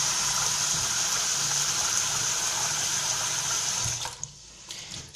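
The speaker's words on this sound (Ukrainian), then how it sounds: "І так промиваємо рис. Заливаю холодною водою." Cold tap water gushes steadily onto rice in a container, a continuous close rushing that stops abruptly near the end, followed by a few drips and clatters.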